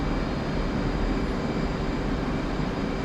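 A steady, unbroken roar of F/A-18C Hornet jet engines in the DCS flight simulator, a broad, even drone with a faint tonal whine riding on top, heard alone without talk.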